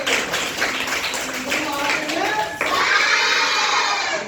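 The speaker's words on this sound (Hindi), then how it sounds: "जोरदार तालियां" Classroom applause for a student's correct answer, a group of children clapping loudly and steadily, with voices mixed in and a louder burst partway through.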